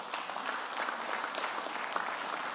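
An audience applauds inside a church during a graduation occasion, steady, dense clapping from many hands that keeps going evenly for the whole stretch without any voices.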